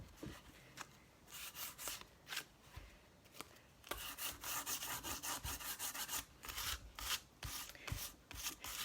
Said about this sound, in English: I'm just going to do a little bit more of the sanding.